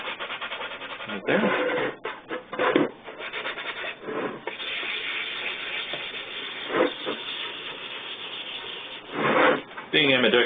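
Hand sanding on a cosplay Black Ranger helmet, a steady rubbing scrape with repeated strokes that swell and fade, close by, with a man's brief speech over it.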